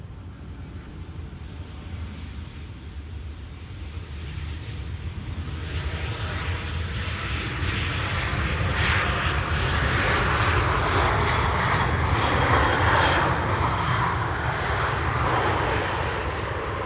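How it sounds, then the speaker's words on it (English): Lufthansa wide-body jet in Star Alliance livery touches down from Frankfurt at Schiphol's Polderbaan runway, its engine roar swelling steadily louder and closer, peaking near the end, with no talk. "Lufty in the Star Alliance livery. Flight 988 arriving from Frankfurt. Touching down now after 45 minutes of flight."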